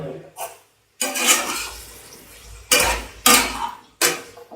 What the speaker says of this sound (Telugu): ఇప్పుడు మనం కట్ చేసుకున్న బీరకాయ ముక్కల్ని వేసుకుని బాగా మగ్గించుకోవాలి.